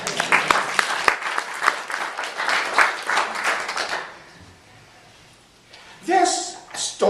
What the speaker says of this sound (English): Let's clap for this guy